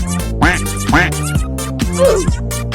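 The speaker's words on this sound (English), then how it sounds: "Quack." A cartoonish duck quack from the game Kittenville repeats about four times in steady succession, close and loud, with a bright, nasal, squawking tone and no talk around it.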